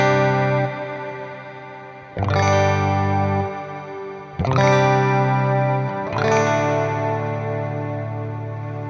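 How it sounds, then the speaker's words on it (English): Lush reverb from the Dream Reverb setting on a Sonicake Pocketmaster, decay turned fully up: three guitar chords each ring out into a long, shimmering wash with modulation, the sustained tails overlapping and fading slowly, with no talking. "Absolutely beautiful sounding reverb."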